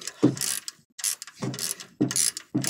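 A hand ratchet fitted with a 1/2-inch socket turns a bolt while fuses are being replaced, giving bursts of clicking in an uneven rhythm with short pauses between strokes, close and clear.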